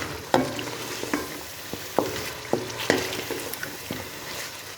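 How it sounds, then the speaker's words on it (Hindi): Chicken pieces stir-fried in a karahi, a Pakistani street-food chicken karahi, with a steady sizzle under repeated sharp scraping and clanking of a spatula against the pan at an irregular rhythm, close and moderately loud. "इसमें चिकन ऐड करते हैं ताकि चिकन और इस तरह इसकी बुनाई हो जाए।"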